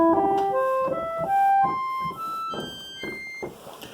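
Reed organ with 4-foot reed sets in bass and treble, playing a rising run of sustained notes followed by softer repeated tones, close and clear with no voices.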